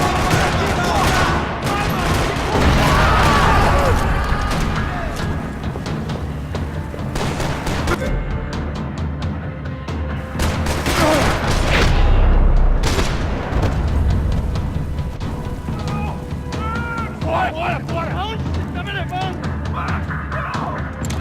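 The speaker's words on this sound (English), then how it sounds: "Another parking lot rattling with gunfire." Heavy gunfire rattles through a parking lot in Max Payne 3, with rapid automatic bursts, single shots and booming impacts repeating over the whole stretch, loud and continuous, mixed with game sounds.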